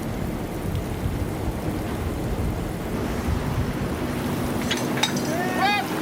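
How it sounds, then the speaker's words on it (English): Storm at sea during a 1999 deep-sea expedition to the Titanic wreck: steady broadband roar of wind, rain and rough water, continuous and fairly loud, with faint brief chirping or squealing sounds near the end. "A storm front moves in, threatening the operation."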